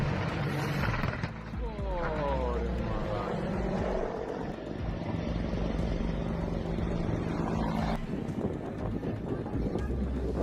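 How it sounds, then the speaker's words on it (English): A helicopter on a training flight that ended in a crash into the sea gives a steady, loud rotor and engine drone blended with wind buffeting, with indistinct voices underneath throughout. "a helicopter crashed into the sea during a training flight"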